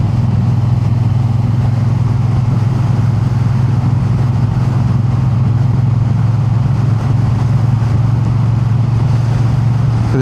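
A Triumph Bonneville motorcycle being ridden, its engine droning in a loud, steady, low rumble that stays constant throughout, with heavy wind noise and no voices.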